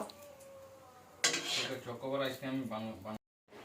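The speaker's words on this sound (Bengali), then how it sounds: "তোমাদের দাদা ভাই শাক ভাজা প্রায় কমপ্লিট হয়ে এসছে" Leafy greens (shak) are stir-fried in a pan, with close clattering utensil scrapes against the metal and a voice speaking over them before a brief cut to silence.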